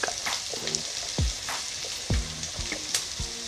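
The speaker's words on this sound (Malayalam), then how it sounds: "എണ്ണ ചൂടാകുമ്പോഴേക്ക് ഞാനൊരു 3 സവാള ഒന്ന് കൊത്തി അരിഞ്ഞതാണ് അതിട്ട് കൊടുക്കുക." Chopped onions hit hot oil and fry with a steady high sizzle, while a spatula scrapes and stirs against the pan in several clear strokes.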